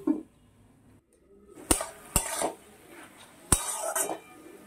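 Metal lids and utensils clank against a cooking pot as it is covered for a drumstick-flower curry, giving three sharp, close metallic clinks spread over a few quiet seconds.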